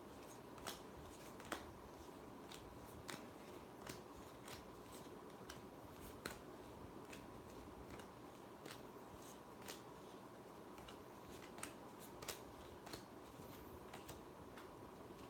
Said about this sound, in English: Just shuffling these cards.